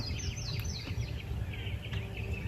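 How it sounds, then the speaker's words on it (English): Faint birds chirp in the distance over a low, steady outdoor rumble. The calls are brief and scattered. "Those were the birds I heard earlier today."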